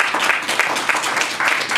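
A conference audience in New York applauds, a dense, steady wash of many hands clapping throughout with no pause.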